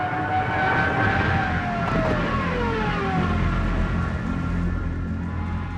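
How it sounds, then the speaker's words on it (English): Rising and falling siren wail of a diving Stuka dive bomber over Dunkirk, sustained and loud over a dense roar of aircraft engine noise, with no talking. "Diving down with this awful wailing sound. Attached to these Stukas, they had sirens."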